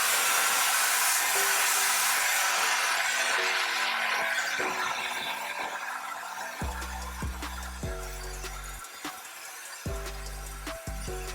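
Blow dryer on low heat and high flow roaring steadily and close. It is joined partway by rhythmic low tonal thumps of background music, with no talk.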